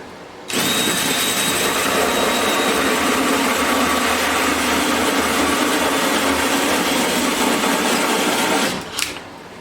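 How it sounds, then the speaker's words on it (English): A powerful high-torque drill bores through the body of a custom 12-string Rosa dreadnought guitar, a loud, steady whirring grind that runs unbroken for several seconds, then cuts off abruptly near the end. "It's a very powerful drill"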